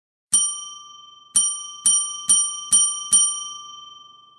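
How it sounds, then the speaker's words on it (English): Ornate brass service bell rung six times: one strike, a pause, then five quicker strikes. Each bright, loud ding rings on with a clear sustained tone, and no one speaks. "like a brass dome with a button on top, and you press your finger on the button to ring it and summon the clerk"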